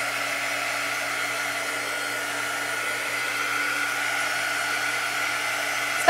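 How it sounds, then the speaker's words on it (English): Heat dryer blowing over adhesive paste on a Chalk Couture craft project, a steady whirring airflow hum held at an even, close level throughout. "Let's just run the dryer over it to make sure that it's all dry"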